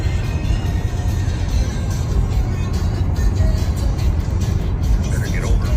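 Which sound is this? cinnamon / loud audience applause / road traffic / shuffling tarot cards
road traffic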